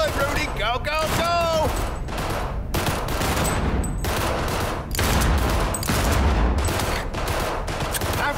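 Weapons firing at a gun range in the video game Cyberpunk 2077: loud, rapid, continuous gunfire with dense overlapping shots and a brief voice near the start.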